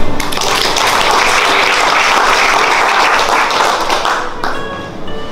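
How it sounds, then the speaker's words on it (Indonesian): An audience claps steadily through an office gathering for an external ISO 9001:2015 quality management audit, sustained applause that tapers slightly near the end. "Kita kasih aplaus dulu ya"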